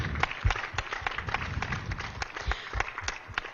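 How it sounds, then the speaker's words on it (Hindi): Audience at a Mouan Dhyan meditation gathering in Hyderabad applauds, giving steady, dense clapping at moderate level that holds without pause. "जोर से तालियां बजाएं एक बार."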